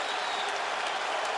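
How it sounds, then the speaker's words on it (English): At Reunion Arena during a 2001 first-round playoff game between the Jazz and the Mavericks, the crowd roars and applauds in a steady, dense wash of noise filling the arena. "The crowd at Reunion ecstatic"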